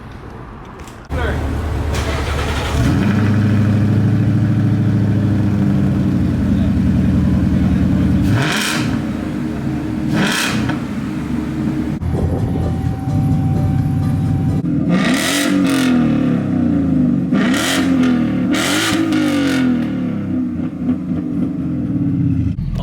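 A Ford Mustang GT fitted with a new X-pipe and electric exhaust cutouts idles with a deep rumble, then revs repeatedly in loud, sharp bursts close by, the exhaust note swelling and dropping between blips.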